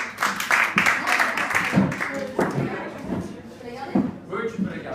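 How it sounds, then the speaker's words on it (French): A group applauds a volunteer during a French debate training session. Scattered claps ring out under loud, overlapping talk and fade as the voices carry on. "Juliette, bravo, on l'applaudit."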